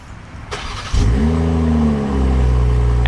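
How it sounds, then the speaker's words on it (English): A 2022 BMW M440i xDrive Gran Coupe fires up by remote start: after a faint click, the engine catches with a loud close burst about a second in, then settles into a steady, rumbling idle. "and we can hear this start up."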